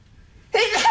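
A single loud, close sneeze bursts out abruptly after a quiet moment during a game session with friends.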